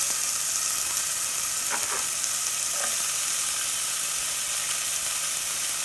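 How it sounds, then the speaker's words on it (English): Garlic and onions sizzle in oil in a soup pot, a loud, even hiss of frying that holds steady, broken only by a couple of faint stirring taps. "I'm going to add in the garlic and also the onions"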